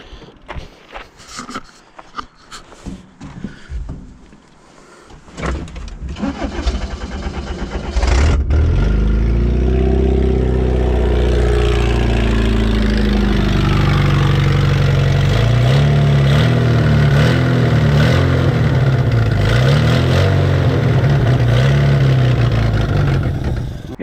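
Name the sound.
Toyota Hilux engine starting and running after long sitting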